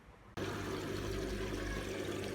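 A Hotpoint WMA50 washing machine starts pumping out dirty wash water, a sudden steady rushing gush that kicks in after a brief quiet and carries on evenly, close by with no voices.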